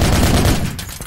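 A loud burst of rapid automatic gunfire aimed at the players' squad in a video game, densest at first and then thinning into a few scattered shots.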